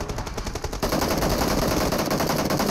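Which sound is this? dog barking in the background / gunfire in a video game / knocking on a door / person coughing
gunfire in a video game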